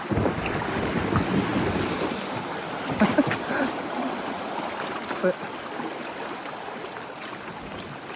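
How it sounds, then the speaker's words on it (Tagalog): Rushing river water and wind roar continuously at the Cavinti (Pagsanjan) Falls rapids, with a few knocks and thuds around the middle as a boat bumps against rocks. "Pag tumatama yung bangka sa bato,"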